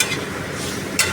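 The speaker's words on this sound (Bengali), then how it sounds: "এইবারে আমি জল দেব," Water poured into a hot cooking pan, giving a brief, close, hissing sizzle with a sharp flare of spitting near the end, no voices.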